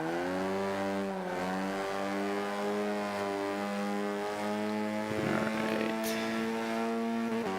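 A Mini Cooper engine from the Forza Motorsport 5 racing game drones steadily through a lap, holding a strong harmonic tone that shifts pitch with throttle. A brief burst of extra noise cuts in near the end.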